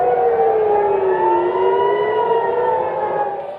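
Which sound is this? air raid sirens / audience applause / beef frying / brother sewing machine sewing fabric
air raid sirens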